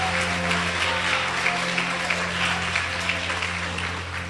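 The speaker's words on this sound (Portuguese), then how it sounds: "pode aplaudir a Jesus" A church congregation claps during a Portuguese-language sermon, with sustained applause over a steady electrical hum from the sound system.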